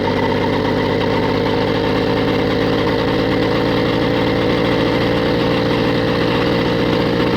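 A small engine on a motorized bicycle drones loud and steady, close up, with a constant vibrating hum and no voices.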